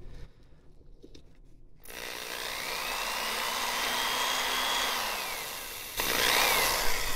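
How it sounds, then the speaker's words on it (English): A power drill bores through balsa wood for an RC plane kit build, first in short bursts and then as a steady loud whirring drone that climbs in pitch near the end. "Thought I had a 3/16 inch drill bit. I guess that wasn't. All right, there it goes."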